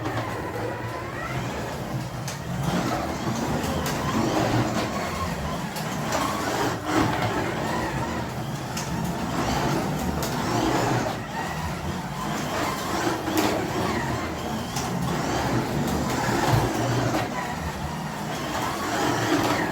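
A Carrera 1:24 BMW M4 slot car with magnets runs laps on a small home track. It gives a steady, faint electric whir with ticking clatter as it passes through the corners, and there is no voice.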